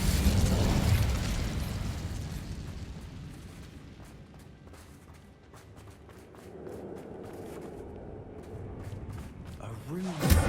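Fiery bursts from the Incendio spell in Hogwarts Legacy flare loudly at the start and again at the very end, with a quieter stretch of movement and game ambience between them, under a speaking voice.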